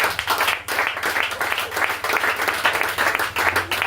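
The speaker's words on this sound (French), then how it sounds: "Donnez-moi l'acclamation au Seigneur." A church congregation applauds in a dense, steady round of clapping, loud and close, with a few brief dips and faint voices underneath.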